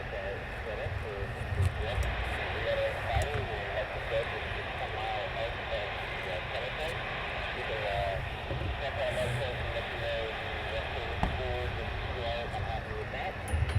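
A flight of two F-15 fighter jets passes near RAF Lakenheath, a steady broad jet roar holding throughout, partly under radio chatter and talk.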